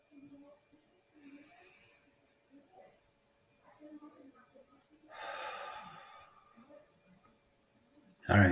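Slow, deep breaths during a calming exercise, inhaling and exhaling at a relaxed pace. Soft close breath sounds rise and fall, with one longer, fuller exhale in the middle and a sharp burst at the end.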